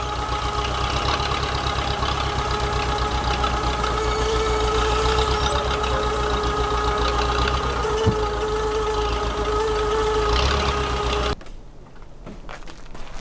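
A skid steer engine runs loud and steady with a knocking diesel rhythm while lifting an old shed on a hillside, then cuts out abruptly near the end, leaving quieter background noise.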